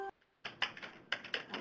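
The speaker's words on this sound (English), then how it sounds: "I'm typing in our speaker's contact information, Cecile" Computer keyboard typing at close range, a short burst of quick, irregular clicking keystrokes after a brief pause, fairly quiet and with no talking.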